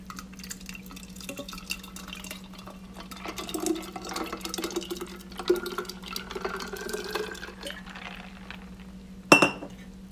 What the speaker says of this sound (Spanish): por supuesto que le voy a agregar bastante hielo